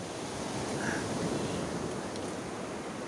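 Steady roar of surf with wind buffeting the microphone, loud and continuous, no distinct breaks between waves.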